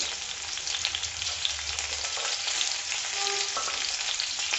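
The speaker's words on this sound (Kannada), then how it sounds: "ಅದನ್ನು ಚೆನ್ನಾಗಿ ಫ್ರೈ ಮಾಡಿ ಹಸಿಮೆಣಸಿನ್ಕಾಯಿ ಹಸಿನಾಗಿ." Green chilies and curry leaves frying in a pan for fish curry, with a loud, continuous, close hiss and crackle of hot oil and a brief metallic scrape near the end, no talk.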